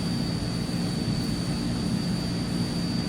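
Transall C-160 engines run in a flight simulator game as a steady, loud roar with a constant high whine held throughout, with no pauses or voices.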